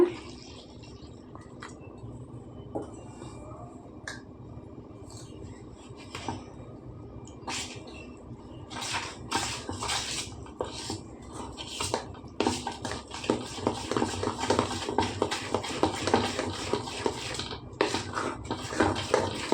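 Water poured into flour and stirred to make brinjal bajji batter, wet squelching and scraping of a spoon against a bowl that grows busier and more rhythmic toward the end, no talk.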